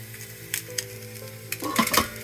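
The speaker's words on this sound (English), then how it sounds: "I got my 2 pans here on the stove heating up, full of pumpkin." Pumpkin pieces fry in two pans on a stovetop, a soft steady sizzle under a low hum, with a few light utensil clinks and a brief louder stirring scrape near the end, close and fairly quiet.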